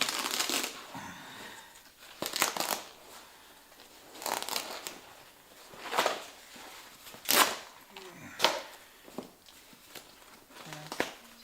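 Old, worn seat cover being torn off a Maico 660cc two-stroke dirt bike seat, a series of sharp ripping and tearing bursts at irregular intervals, close and fairly loud with no talk.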